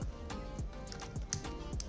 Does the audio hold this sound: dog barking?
no